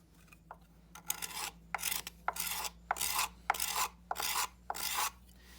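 A steel scraper shaves across a large, industrial-sized wooden spoon in a steady series of about eight close, raspy strokes, each a short scratchy pass with brief gaps between, heard alone.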